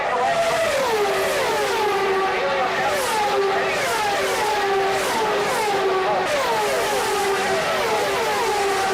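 IndyCar race cars at the Michigan 500 scream past one after another, high engine whines sweeping down in pitch as each passes, under continuous race commentary.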